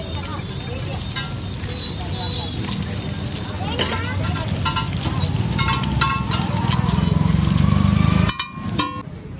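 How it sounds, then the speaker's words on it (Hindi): Two eggs frying with Amul butter on a busy street-food griddle, a steady loud sizzle running throughout beneath background chatter and a voice talking, with metallic scraping taps near the end. "ये मेरे फ्राई होंगे ये पहले।"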